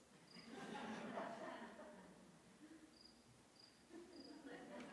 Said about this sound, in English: You all hear the cricket?